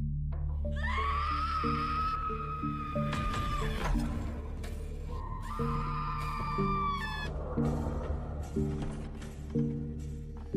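A high, sustained scream rings out twice over a steady droning music bed, loud and piercing against the background.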